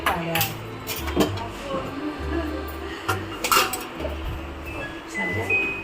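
A metal lid clinks and clatters onto a pan on a home stove, with several dishware knocks and clinks in a busy kitchen, while faint voices speak in the background.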